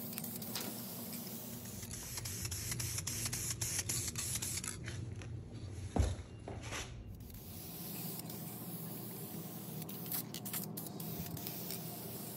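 Gloss clear coat is sprayed from an aerosol can onto Harley fork tubes freshly painted gloss black, a steady hiss for several seconds with brief bursts and a sharp knock midway, then quieter rubbing afterward.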